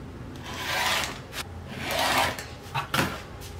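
Fabric pieces for a quilt are cut close by in a few rasping strokes with short pauses between them, quiet with no talking.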